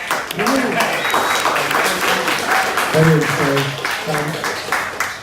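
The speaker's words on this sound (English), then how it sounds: "Gentlemen, put a round of applause for Zach." Audience applause at a transhumanism and emerging-tech summit in Australia, a steady wash of clapping over several seconds with voices talking over it.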